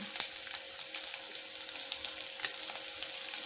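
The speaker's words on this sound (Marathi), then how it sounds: "तेल गरम झाल्यानंतर आता आपण त्यामध्ये घालणार आहोत बारीक कापलेले मिरचीचे तुकडे" Finely chopped green chilli pieces sizzle in hot oil for raw tomato thecha, a quiet, steady hiss with a few small pops and crackles over a short stretch.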